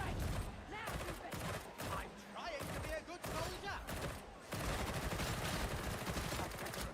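Gunfire from the video game Warhammer 40K Darktide comes as dense, rapid bursts that run almost without pause, loud and close, with brief gaps and a voice heard among the shots.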